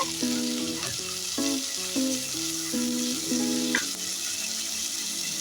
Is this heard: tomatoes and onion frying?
yes